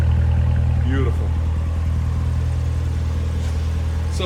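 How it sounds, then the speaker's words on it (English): A 2015 Chevrolet Corvette Z06 3LZ with 650 hp idles with a deep, steady exhaust chug throughout, loud and close, with faint background sounds over the rumble. "Massive exhaust. Listen to that chug."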